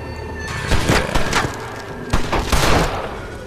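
Gunfire and TNT blasts from Red Dead Redemption: several sharp broadband bangs land in two loud clusters, one early and one late, each with a short crashing tail over a steady game ambience.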